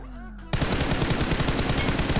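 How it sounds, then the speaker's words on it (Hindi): Rapid automatic gunfire breaks out in the video game BGMI after a brief quieter moment, a loud, continuous burst of closely spaced shots that keeps going to the end. "पहाड़ी पे जबरदस्त फायरिंग हो रही थी"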